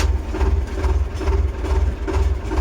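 A heavy tractor engine idles with a low, pulsing rumble while tipping a trailer, loud and close, throbbing rhythmically without any talk.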